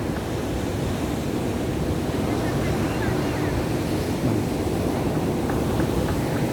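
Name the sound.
ocean waves at the seafront in El Salvador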